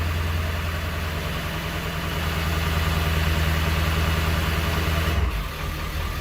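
Ford 7.3L Powerstroke diesel in a 1999–2003 truck running at high idle: a steady, close, loud low rumble with constant clatter, shifting briefly near the end as the idle changes.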